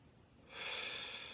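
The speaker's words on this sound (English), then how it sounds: "So nice deep breath in." One slow, deep inhale through the nose during a hip and low back mobility stretch, a soft airy rush starting midway and holding steady, faint and close.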